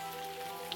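Rain from a storm falls as a steady, even hiss of drops on a surface, very short and fairly quiet.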